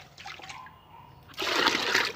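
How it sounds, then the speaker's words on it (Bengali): Water is poured into liquid plant fertilizer for mixing: a soft trickle at first, then a loud, steady rushing pour close by. "1 লিটার জলের সঙ্গে আরও 1 লিটার জল কিন্তু মিশিয়ে নিয়ে"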